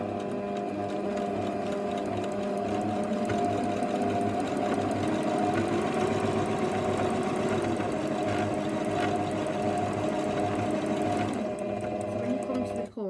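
A sewing machine runs steadily and up close, stitching a V shape into triangular bunting fabric with a continuous even whir for the whole stretch, while a person talks over it.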